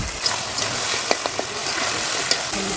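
Gobindobhog rice and washed, pre-fried moong dal are stirred in a hot pan for Bengali muro ghonto, giving a loud, close sizzle with scattered spatula clicks and scrapes throughout, no voices.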